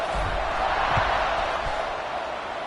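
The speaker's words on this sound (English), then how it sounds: "They're set to kick it off, and this crowd now ready to get behind them." Stadium crowd in a football video game roars steadily as the teams set up for the kickoff, a broad continuous wash of cheering with a few thumps underneath.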